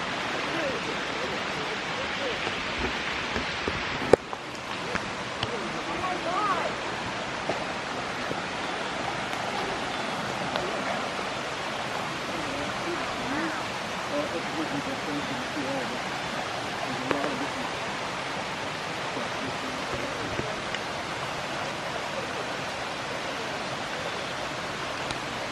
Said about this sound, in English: I think Cliff has spotted the waterfall.